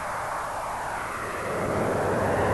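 A MiG-15 jet fighter's turbojet engine roars as a dense, continuous broadband rush that swells slightly louder toward the end, with no voices over it.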